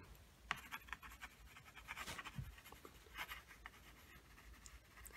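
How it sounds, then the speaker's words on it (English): A soft 6B pencil scratches lightly across paper in short, uneven strokes while drawing a Banksia serrata, faint and close with quiet rustling between strokes. "I'm using a 6B pencil"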